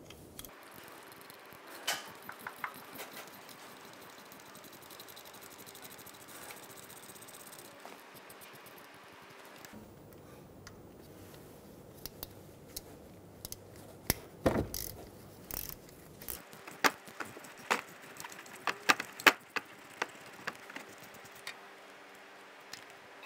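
An 8mm socket ratchet removing bolts from a 2000-2007 Ford Focus during a crankshaft position sensor replacement, with quiet clicking ratchet strokes and scattered metallic ticks, faint and close.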